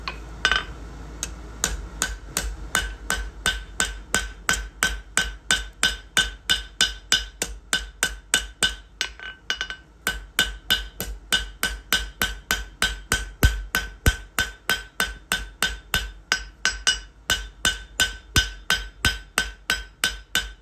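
A hammer strikes a round steel bar on an anvil, flattening a section for a rope-twist fire poker. There are dozens of loud, ringing metallic blows in a fast, steady rhythm, with only brief pauses.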